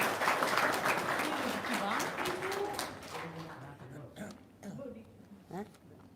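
A small gathering claps briefly at first, the applause thinning out as people start talking and murmuring nearby.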